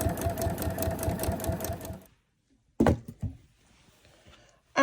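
A sewing machine stitches down a zipper on a quilted patchwork pillow, running in a fast, steady mechanical whir for about two seconds before stopping, followed by a few handling clunks and quiet rustling.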